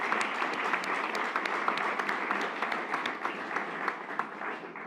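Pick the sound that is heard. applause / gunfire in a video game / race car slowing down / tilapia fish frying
applause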